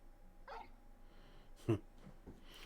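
Torgal, a hound in the video game Final Fantasy 16, gives a few short, close vocal sounds: a soft yip, then a louder bark-like burst and a quieter whimper, set against a low game background.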